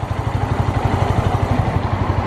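Suzuki Volty motorcycle fitted with a large rear top box, its engine idling steadily with a close, even, rapid thumping pulse throughout.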